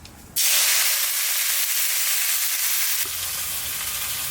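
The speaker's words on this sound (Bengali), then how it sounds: "আগে ধনে পাতাটা ভাজা করব" Coriander leaves hit hot mustard oil in a kadai with a sudden loud burst of sizzling that holds as a dense, close hiss, then settles to a slightly lower, steady crackle.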